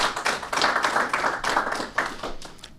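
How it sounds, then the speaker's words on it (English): Audience applauding at a small-business certificate program press conference, a steady patter of many hands clapping close by for a few seconds, fairly loud with no talk over it. "Let's give a round of applause for that too,"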